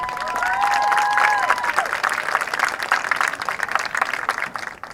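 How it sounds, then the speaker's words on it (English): Audience applauding at a high school marching band parent preview, a dense wash of clapping with some cheering that swells early and then thins slightly, with faint whistle-like tones riding on top in the first two seconds. "Yes, round of applause."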